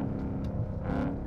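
A 2021 RTR Ford Mustang engine rumbles through a quick gear change, a loud, close in-car roar with a brief dip and rise in revs and no talk.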